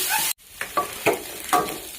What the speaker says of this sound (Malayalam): നന്നായിട്ട് ചൂടായിട്ട് നമുക്കിനി ഇതിനകത്തോട്ട് വെളുത്തുള്ളി ഇഞ്ചി പേസ്റ്റ് ഇട്ട് കൊടുക്കാം.